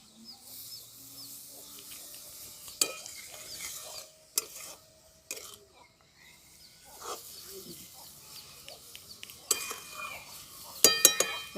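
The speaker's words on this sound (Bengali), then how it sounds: "চিনিটা আমি এই পেঁপের সাথে খুব ভালো করে মিশিয়ে নিচ্ছি।" Grated papaya and sugar being stirred in a pan, giving soft, faint scraping and occasional sharper clinks of the utensil against the pan, irregular and close.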